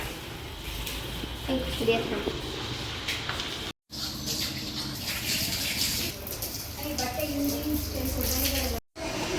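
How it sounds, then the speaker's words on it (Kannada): Water pours from a pipe into a container at a house-warming, a steady splashing gush that runs under people talking nearby, with two brief cut-outs. "ಈಗ ನೀರೆಲ್ಲ ಹಿಡ್ದಿದ್ದೀನಿ"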